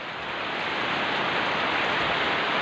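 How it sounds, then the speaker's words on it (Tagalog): Heavy typhoon rain from Typhoon Quinta pouring down in Northern Samar, a dense, loud, unbroken hiss of rainfall that swells slightly and holds steady throughout. "Malakas pa rin yung ulan"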